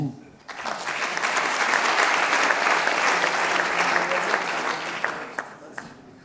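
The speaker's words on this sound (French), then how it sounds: "Applaudissements, merci." A room full of people at an anniversary evening event applauds loudly and steadily for several seconds, the clapping fading out near the end.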